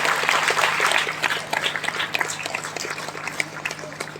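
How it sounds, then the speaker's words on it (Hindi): An audience bursts into loud applause, dense clapping that is strongest at the start and then thins slightly while staying steady to the end. "जोरदार तालियां दोस्तों"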